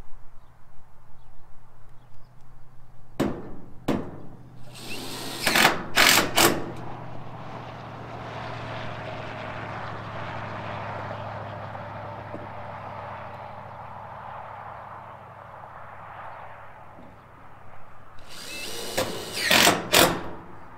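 A power drill driving screws into used metal roofing on a horse shelter, giving short bursts of whirring and grinding with brief clanks, separated by a long stretch of low hum.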